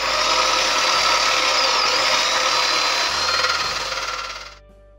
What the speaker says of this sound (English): what some people call a jigsaw, with a metal cutting blade